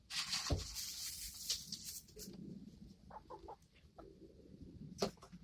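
Chickens cluck softly inside a coop, with a few short scattered calls and scratchy rustles, faint and close-by.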